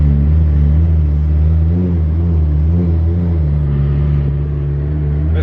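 A Honda car with a K24 engine drives along with a slipping transmission, its steady droning rumble rising and wavering in pitch as revs climb without matching road speed, loud and close from inside the cabin with no talk.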